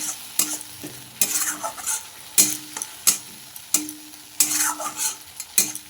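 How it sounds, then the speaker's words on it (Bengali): Fish curry with spices and a mustard-poppy seed paste is stirred in a sizzling pan, with loud, regular scraping strokes of a spatula roughly every second over a low frying hiss, with no speech. "ভালো করে এটা নাড়িয়ে একটু মশলার সঙ্গে মিশিয়ে নেব ভালো করে"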